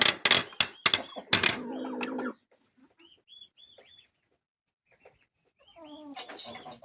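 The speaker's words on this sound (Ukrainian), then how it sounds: "Тут зверху сидить теж курочка." Soft, intermittent clucks and low murmuring from a brooding hen sitting on eggs come in short phrases, with louder bird calls and rustling at the start and end.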